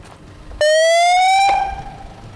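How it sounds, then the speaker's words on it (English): A loud electronic siren blares for just under a second, a rising steady wail that cuts off abruptly, with quiet background before and after. "they hit the siren and bolted"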